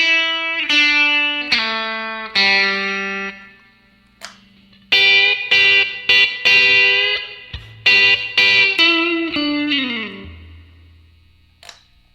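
Guitar picks the next melodic line of 'You Just Can't Beat Jesus Christ', bright single notes and slides in phrases with brief pauses and ringing decays.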